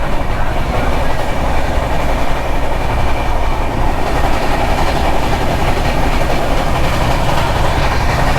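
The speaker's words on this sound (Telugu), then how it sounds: "ఈ 12625 Kerala super fast express train India's 2nd largest daily running super fast express train" The 12625 Kerala Superfast Express thunders past close by, heard from a third floor, a steady loud roar with rhythmic clatter of wheels on the rails throughout.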